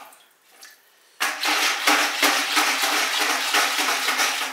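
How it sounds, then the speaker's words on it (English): A bucket of pottery glaze being stirred, starting quiet, then a loud, continuous sloshing and swishing with repeated scraping strokes against the bucket, close and without talk. "Give the bucket a good stir."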